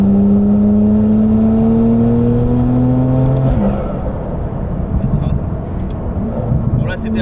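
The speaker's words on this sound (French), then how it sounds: "Vous l'entendez, le moteur" The 950 hp RML GT Hypercar's engine hums and climbs in pitch as it revs, then settles into a lower rumble, heard from inside the car.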